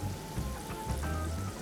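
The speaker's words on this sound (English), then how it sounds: "Add about 10 ounces of tomato sauce" Tomato sauce pours into a pan of sautéed onions with a soft, continuous liquid splatter and gurgle, close and fairly quiet, with no voices.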